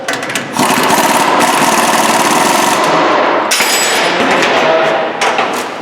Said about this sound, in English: Okay, we'll snug up the pinch bolt.